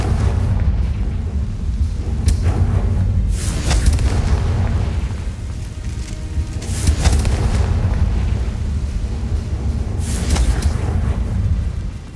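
A Confringo fire spell in the Hogwarts Legacy video game sets off repeated deep booming explosions, roughly every three seconds, each followed by rumbling that carries over a constant loud low roar.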